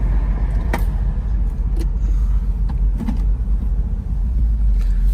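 A 1959 Cadillac Series 62 Convertible, an original survivor with 36k miles, drives along with a steady, loud, low rumble of engine and road noise, heard from inside with a few faint clicks and rattles.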